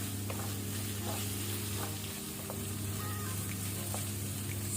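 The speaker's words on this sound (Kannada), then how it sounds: "ಒಂದು 2 ಮಿನಿಟ್ ಇದನ್ನು ಫ್ರೈ ಮಾಡ್ಕೊಳ್ಳುವ. ಟೊಮೆಟೊ ಸ್ವಲ್ಪ ಸಾಫ್ಟ್ ಆಗಲಿ." Chopped tomato frying in a pan over a medium-high flame for prawn curry, with a steady close sizzle and a few faint utensil taps over a constant low hum.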